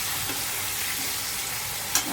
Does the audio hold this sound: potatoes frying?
yes